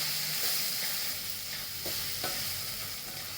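Yellow, black and onion-garlic masala frying and being stirred in a pan for soybean bhurji, a soft steady sizzle with a few light spoon knocks, no voices.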